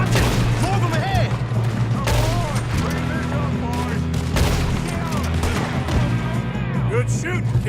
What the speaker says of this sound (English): Good shooting, kid.